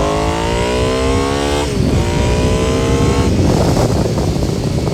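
A repaired motorcycle cruising on the interstate: a loud, close engine drone that climbs in pitch, drops at a gear change, then climbs again, with heavy wind rush throughout.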